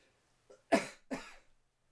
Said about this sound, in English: Sorry about all the snuffling and coughing.